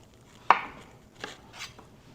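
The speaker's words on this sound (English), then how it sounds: "all we're going to do is chop them up" Knife chopping yellow squash, zucchini and Mexican squash on a cutting board: one sharp, close chop followed by two softer cuts in a quiet kitchen.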